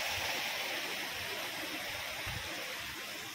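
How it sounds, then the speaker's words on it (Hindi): Water from Jog waterfall in Manali pours steadily as a dense, constant rushing roar with no pauses and no voices. "जोग वाटरफॉल का ही पानी है ये।"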